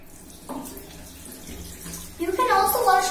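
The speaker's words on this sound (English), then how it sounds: "At last, wash your hands by the clean water." Hands being rinsed under a running tap at the end of a soap handwashing routine, a steady close splash of flowing water that swells louder toward the end, with faint voice-like sounds.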